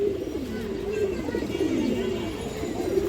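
A pigeon coos in a low, rolling, repeated call close by, continuing throughout with faint background noise, among a gathering of fancy pigeon breeds.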